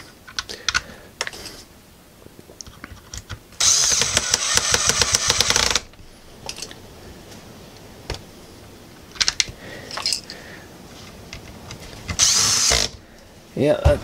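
A Ridgid battery drill drives long screws during a switch repair, with two loud sustained bursts of whirring separated by quieter clicks and handling noises.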